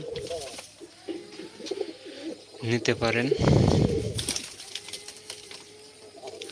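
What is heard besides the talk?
pigeons cooing in a pigeon loft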